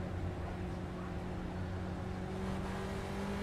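A constant droning race car engine in a racing video game hums at a steady pitch, fairly faint and unbroken throughout, with no talking.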